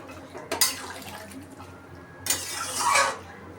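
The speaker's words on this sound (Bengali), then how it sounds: "পরিমাণ মতো জল দিয়ে দিলাম।" Water splashes into a pan of jackfruit and shrimp curry in two short pours, the second longer and louder, with faint kitchen clatter between them and no voices.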